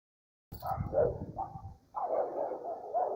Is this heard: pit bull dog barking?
yes